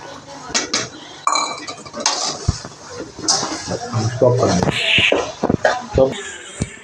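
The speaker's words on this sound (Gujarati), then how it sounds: "હવે આપણે બાફેલા બટાકામાં મસાલો મિક્સ કરીશું." Boiled potatoes being stirred and mixed with spices for dabeli, with utensils clinking and scraping against a pot or plate in irregular bursts, close by, with some voices in the background.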